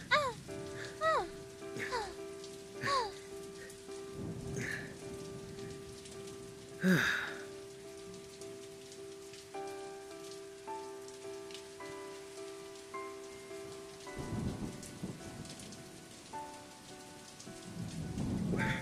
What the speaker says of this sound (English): When it rains around here, it pours.